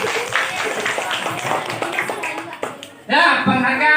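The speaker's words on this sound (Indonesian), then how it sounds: "berikan tepuk tangan untuk kelompok 6" A classroom bursts into clapping for a student group near the end, loud scattered applause following a teacher's talk.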